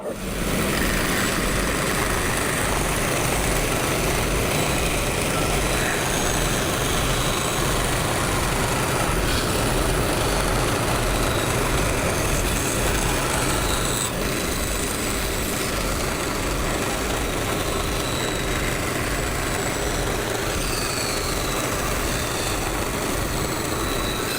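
Steady, loud bandsaw drone as wood offcuts are cut down for surfboard-shaped cutting boards, a continuous broadband roar holding for the full length with no speech.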